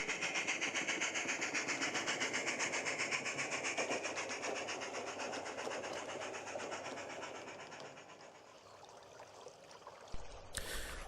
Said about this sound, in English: the down passenger crosses the impressive viaduct